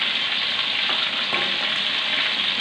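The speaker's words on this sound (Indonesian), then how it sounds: "Goreng terong nggak perlu lama-lama sahabatku ya." Eggplant fries in hot oil with a steady, dense sizzle and crackle that stays close and even throughout, with a faint stir or two and no talking.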